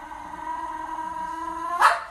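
A dog barks in footage played back on a show, a steady whining tone running for nearly two seconds before one sharp, louder bark bursts out near the end.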